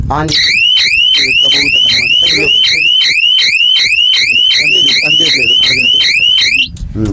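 A solar fence energizer alarm for a papaya farm sounds loudly and steadily, a rapid repeating rising siren chirp that cycles about every half second for seven seconds.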